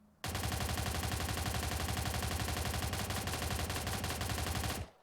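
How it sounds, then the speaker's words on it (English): SMG-19 Bizon submachine gun from a video game firing one sustained full-auto burst at about 700 rounds a minute, loud and close, a rapid even stream of shots for nearly five seconds with no talking. "Next up is the Bizon, the SMG-19 Bizon"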